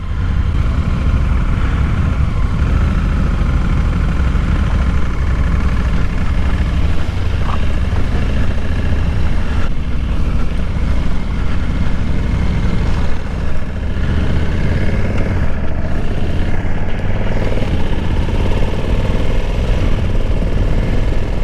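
A Honda Africa Twin DCT motorcycle engine runs steadily while riding, a continuous close low-mid drone with wind rush and no pauses.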